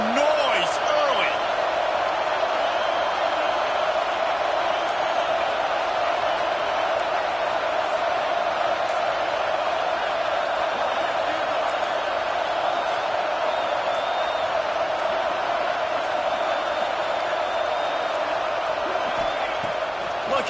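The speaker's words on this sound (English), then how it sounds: "This crowd bringing the energy and noise early." Stadium crowd in the College Football 26 video game, a dense, steady roar that holds at full loudness the whole time, with scattered whoops and shouts rising out of the wash.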